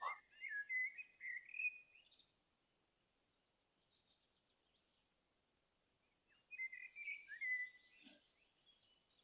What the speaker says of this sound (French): en étant dans ce lieu naturel, entouré d'oiseaux